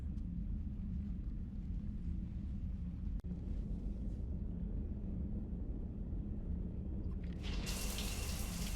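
Shower water runs steadily in a video game, a continuous close rushing hiss with a faint click partway through and a brighter, louder spray near the end.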